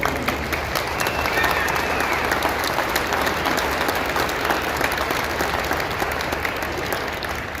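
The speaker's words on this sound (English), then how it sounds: "One more round of applause for all of you." Sustained applause from a large audience at a Utah County Commissioner debate, steady clapping that continues throughout without pause.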